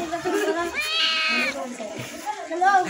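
A domestic cat, one of three being bathed, meows in several rising and falling cries, close and fairly loud, with people talking nearby.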